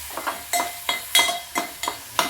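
Mushroom masala stirred in a pan, with rhythmic scraping strokes of a spoon against the pan roughly every third of a second over a low sizzle, close up and with no speech.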